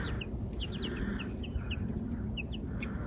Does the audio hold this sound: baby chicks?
yes